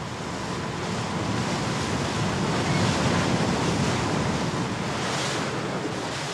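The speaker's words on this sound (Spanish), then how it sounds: "Hacia el levante, la mar se agita y golpea fuerte contra los roquedales" Rough sea on the coast of La Gomera, waves crashing and churning against rocky cliffs in a continuous loud roar, with wind buffeting the microphone.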